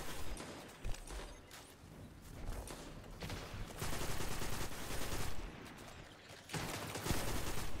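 Ricochet round gunfire in the video game Destiny, a dense rapid stream of shots with crackling impacts, fairly faint and continuous with brief lulls, no talk.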